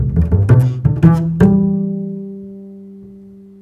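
Jazz bass line plucked with a single right-hand finger, a handful of quick, punchy low notes in a short run, finishing on one sustained note that rings out and slowly fades, played alone with no voices.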